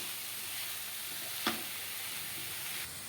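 Broccoli poriyal with onion and coconut frying in a pan, a steady soft sizzle throughout with one brief scraping stir of the spoon near the middle.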